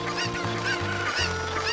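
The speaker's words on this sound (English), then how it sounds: "I'm trying to run over chickens" Cuccos, the chickens of the game Ocarina of Time, squawk and honk continuously and loudly in a dense, overlapping flock. Their cries fill the whole stretch with no talking.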